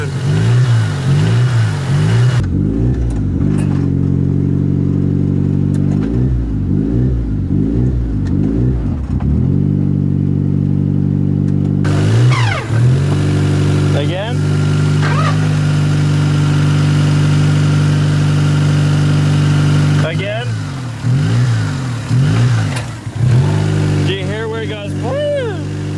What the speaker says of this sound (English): I like how you can see it revving.